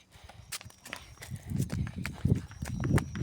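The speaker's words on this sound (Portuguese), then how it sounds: "olha, vai o cavalo que tá solto" Loose horse walking on a rainy night, hooves clip-clopping in an uneven, steady rhythm at close range, with rain and faint voices around it.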